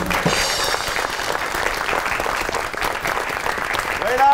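Dense, steady audience applause fills a live comedy and poetry stage show as the poet Anwar Masood is welcomed, a loud continuous wash of many hands clapping throughout with no talk.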